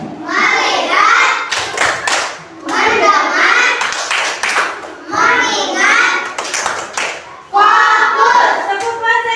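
A class of children chants in unison during a focus clapping routine, with sharp group claps landing in a steady rhythm between the spoken phrases in a classroom.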